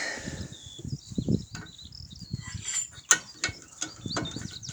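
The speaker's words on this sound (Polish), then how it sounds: "dokręcamy, słuchajcie, e, grzechotką ile możemy" Quick, uneven ratchet clicks sound close by while tightening front brake bolts on a Skoda Octavia, coming in short bursts with some metallic scraping between them.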